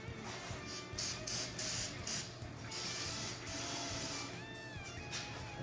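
Brake cleaner spray into a turbo Saturn engine before starting it, loud close hissing bursts of about a second each, repeated several times with short gaps.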